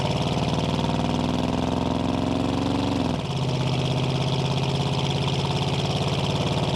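A 1987 Chevrolet K10 Silverado pickup with a 350 engine idles with a steady, loud low rumble, then the pitch drops slightly midway and settles into a deeper, even drone.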